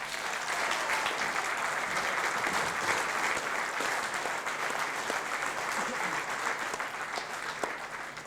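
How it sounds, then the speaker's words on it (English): A crowd at the World Eightball Pool Championship 2015 men's final gives steady, dense applause to the runner-up, Nigel Clarke, a continuous roar of clapping that holds level for the whole stretch with faint voices underneath. "Let's hear a massive round of applause for our runner-up"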